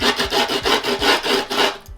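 Sandpaper rubbed back and forth across the wooden edge of a skateboard deck in quick, even strokes, close and loud, with a rasping scrape on each pass and no talking.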